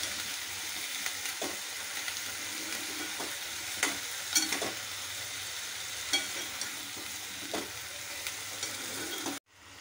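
Brinjal (eggplant) pieces frying in a pan while being stirred, a close crackling sizzle with repeated crisp spoon scrapes and taps at irregular intervals, cutting off abruptly at the end; no voices.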